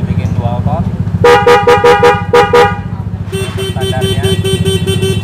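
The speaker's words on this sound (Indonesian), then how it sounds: "Untuk klakson ini dibikin dual tone." The dual-tone horn of a Honda PCX160 scooter sounds in two bursts of short repeated toots, then in one longer run of beeps, loud and close over a steady low idle, with someone talking throughout.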